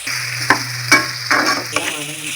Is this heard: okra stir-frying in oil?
yes